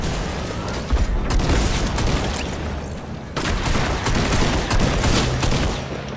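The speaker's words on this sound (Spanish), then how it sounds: "Eliminación con su fusil de asalto." Rapid assault rifle fire and heavy booms in a Fortnite Season 7 match fill the whole stretch, with dense bursts of shots, sharp blasts near the one- and three-second marks, and almost no voice over them.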